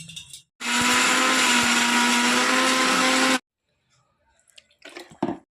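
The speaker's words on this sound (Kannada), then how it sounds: "ಶುಂಠಿ ಬೆಳ್ಳುಳ್ಳಿ ಪೇಸ್ಟ್ ಇಷ್ಟನ್ನು ಹಾಕ್ಕೊಂಡು ಪೇಸ್ಟ್ ಮಾಡ್ಕೊಂಡು ಬನ್ನಿ" Electric mixer grinder whirring loudly for about three seconds as it blends coconut, mint, onion, roasted gram and ginger-garlic paste, a steady high-pitched motor drone that stops abruptly, followed by faint clatter.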